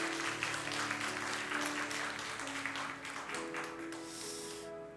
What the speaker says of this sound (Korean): 박수 한번 해주시기 바랍니다